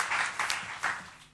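A church congregation applauds after the choir's song, a short burst of moderate clapping that fades out within about a second.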